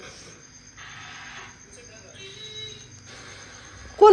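A phone rings indoors in a rural Marathi household, with a thin electronic tone repeating in short pulses while people talk over it.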